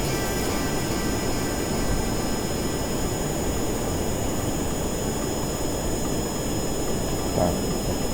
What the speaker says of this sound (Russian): Сейчас я буду сажать свой самолет прямо на эту землю.